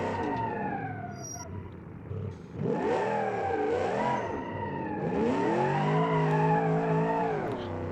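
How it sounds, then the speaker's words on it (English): Car tires squealing and skidding while drifting in the BeamNG.Drive driving game, long wavering screeches over a droning engine, sustained and loud. "It's drifting pretty good though."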